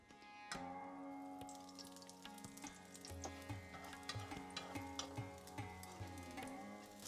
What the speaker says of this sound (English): Reduce the heat a little and just use some oil to cook this.